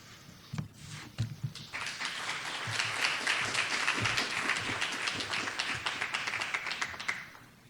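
A theater audience at a celebration-of-life memorial breaks into applause. A few sharp early claps build into a full, steady, moderately loud round that carries on until it tapers at the close.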